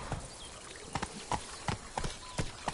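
Roach the horse's hooves clip-clop in The Witcher 3, a steady run of close, crisp hoof strikes over a soft ambient bed.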